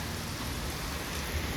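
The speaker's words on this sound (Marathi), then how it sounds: "तर गाईस कधीपासून पाऊस पडतोय बघा." Heavy rain pouring down in a steady, dense hiss, a continuous wash of falling water with no pauses over a brief stretch.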